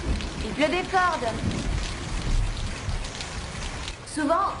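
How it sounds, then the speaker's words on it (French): Heavy rain pours down as a dense, steady hiss throughout, with voices speaking briefly near the start and again at the end. "Il pleut des cordes."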